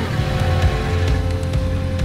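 A wrecked BMW M3's engine idles steadily up close after starting, a low, even rumble with a faint rhythmic throb and no voices.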